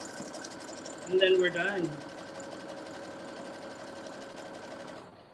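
A sewing machine runs steadily at low level, stitching the trim on an organza and fringe handbag, with its even mechanical hum continuing throughout while a person speaks briefly over it.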